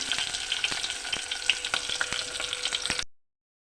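Chopped onion frying in hot oil with mustard seeds and cumin, a close, busy crackling sizzle with sharp pops and stirring scrapes, cutting off abruptly after about three seconds.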